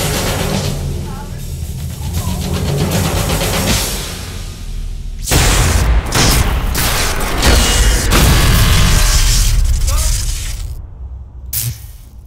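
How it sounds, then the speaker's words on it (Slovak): Loud, busy explosion effects for a superhero film shoot, with booming bursts and crackling debris from about five seconds on, layered over a dense continuous rumble. "Dávaj pozor pri tých výbuchoch"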